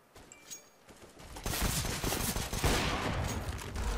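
Rapid gunfire from a CS:GO competitive match, bursts of shots starting faint then turning loud and continuous from the midpoint onward, with no talk over it.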